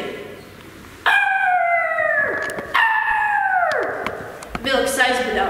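A storyteller imitates a wolf howling in a Latvian folk tale, voicing two long, wavering howls that slide downward in pitch, close and loud, with a short rising cry at the end.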